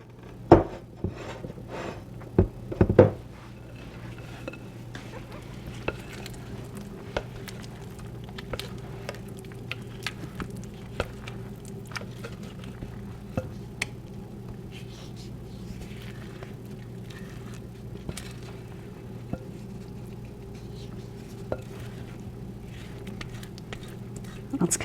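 Thin rum ball batter poured and scraped with a spatula into a prepared baking pan, a few soft scrapes and wet squishes near the start, then a quiet steady room hum with faint occasional taps.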